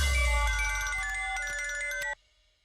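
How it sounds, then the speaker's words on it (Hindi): A phone ringtone plays as a call is placed, a bright repeating electronic melody heard close and clear, then it cuts off abruptly near the end, leaving near silence. "हाँ, कृष्णा शास्त्री को फोन करता हूँ।"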